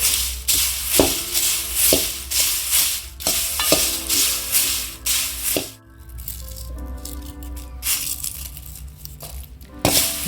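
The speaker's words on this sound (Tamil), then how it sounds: "கொஞ்சம் வறுக்கணும் பார்த்தீங்கன்னா இந்த அளவுக்கு வறுத்துக்கலாம்" Curry leaves dry roasting in a pan are stirred in a quick, regular rhythm, with rattling and crackling scrapes and a dry sizzle. The stirring eases off partway through, then picks up again with a knock at the end.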